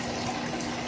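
Liquid pouring steadily into a container, a continuous close splashing gush lasting under a second with no talking.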